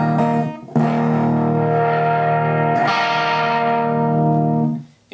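A custom Fender Stratocaster electric guitar with the tone knob turned down rings out in sustained, distorted chords with a muffled, dark character; a fresh strum comes near the start and another midway, then the sound fades out.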